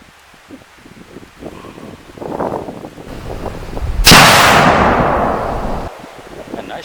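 A single loud rifle shot from a Savage 110 chambered in 270 Winchester cracks out outdoors, then a long rolling echo fades under wind noise and rustling.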